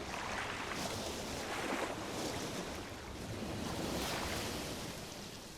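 Ocean waves wash and foam against the shore in the City of Titans video game, a steady rolling surf with soft swells, fairly quiet and without talk.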